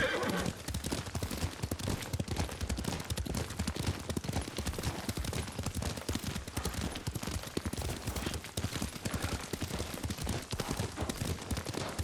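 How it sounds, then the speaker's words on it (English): Horse hooves pound at a fast, steady gallop in the samurai adventure game Ghost of Tsushima, close and loud throughout, with a horse's whinny mixed into the continuous clatter. "Lord Sakai taught me to ride a horse."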